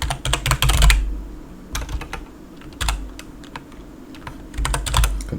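Rapid bursts of keystrokes on a computer keyboard, typed while editing a configuration file, come in clustered runs with short pauses over a low steady hum, close and fairly loud, with no talking.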